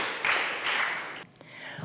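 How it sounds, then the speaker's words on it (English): Audience applause at a Meadville 1825 history lecture event, a soft wash of clapping that fades toward the end, heard from a distance. "This is the applaud time."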